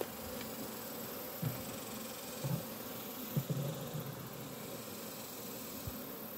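Honeybees in a new hive, drawing comb from wooden sticks, hum in a steady, faint, dense buzz with a few louder individual buzzes passing near.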